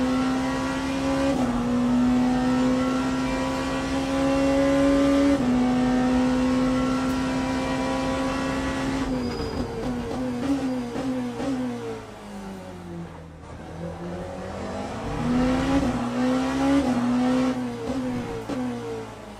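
Race car engines in an LMU racing game at COTA, with a Ferrari and a Peugeot among the cars: a loud, steady engine whine that shifts pitch and dips as cars pass and speed away, with no voices.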